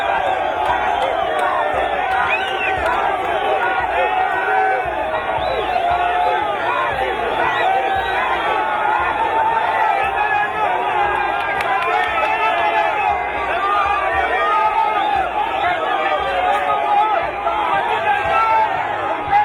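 Crowd of political party supporters, young and old, greeting the president and first lady outside an airport, a dense, steady babble of voices and chanting that holds loud throughout.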